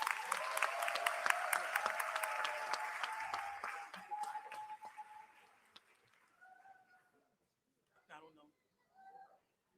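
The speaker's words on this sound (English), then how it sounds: "Let's give them all a round of applause." An audience at a congressional town hall meeting applauds steadily for several seconds, then the clapping fades out, leaving a few scattered claps and faint voices.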